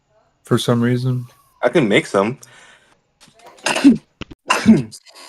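A woman's sharp sneeze bursts out near the end, right after a few spoken words.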